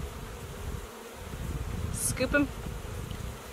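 Honey bees buzzing around a queen box during a hive installation in Alaska, a close whining hum that rises and falls, with a person talking briefly over it.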